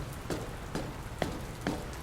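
Rain keeps falling in the game Dr Langeskov, a steady hiss of drops with faint rhythmic taps recurring about every half second at moderate level.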